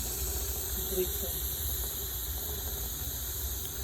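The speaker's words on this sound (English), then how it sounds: "just turn this dial to make sure you release the whole steam" A steady hiss of steam venting from a pressure cooker as its release dial is turned after cooking a veal and pork stew, a continuous faint hissing with low background rumble and no talk over it.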